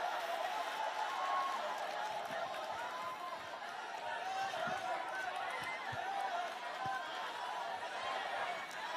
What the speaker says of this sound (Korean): 큰 응원과 격려의 박수 부탁드리겠습니다